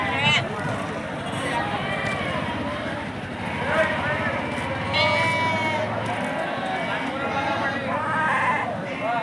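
Lambs or kids bleating at a busy sheep and goat market in Tumkur, repeated nearby bleats over a dense crowd murmur and continuous talking.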